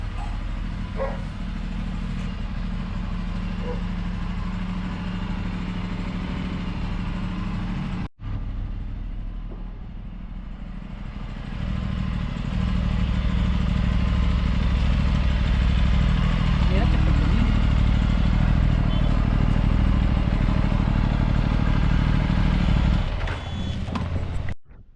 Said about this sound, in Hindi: So let's get the bike warmed up.